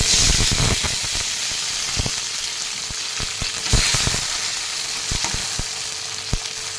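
Tomato pieces fry in fresh oil in a pan, giving a loud, continuous sizzle and hiss with scattered stirring scrapes and pops; no voices.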